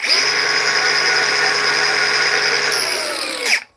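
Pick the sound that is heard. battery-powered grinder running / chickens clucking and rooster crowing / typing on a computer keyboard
battery-powered grinder running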